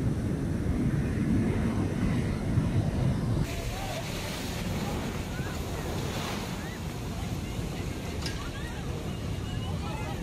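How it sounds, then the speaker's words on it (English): A flash flood of water, mud and debris surges down the Uzumlu River bed, a loud, continuous roaring rush buffeted by heavy wind noise on the microphone, with no pause throughout. "resulting in a tidal wave of water, mud, and debris"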